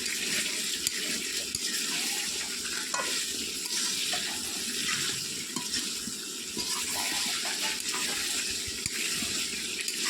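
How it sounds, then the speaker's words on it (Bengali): Chicken and fried potatoes being sautéed in spices in a pan, with a steady sizzle and the scrape of stirring running continuously, fairly close and moderately loud, with no talking. "আলুকে ভালোভাবে কষাতে হবে মাংসকে"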